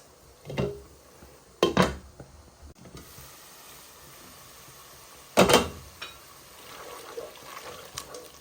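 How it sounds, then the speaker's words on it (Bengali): Prawns dropped into fried spice paste in a pan for a Bangladeshi prawn curry, giving a few sharp sizzling bursts and clatters of stirring between quieter stretches. "এখন আমি চিংড়ি মাছ ছাড়িয়ে দিলাম"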